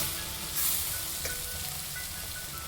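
Onion sautéing in oil in a pan sizzles in a steady, close, hissing crackle that holds for a few seconds, with a faint clink of stirring partway through.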